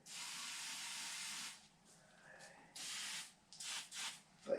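Bursts of aerosol spray hiss into the door of a 1954 Henry J: a long steady spray, then a few shorter hisses, close by, with faint background noise and no talking.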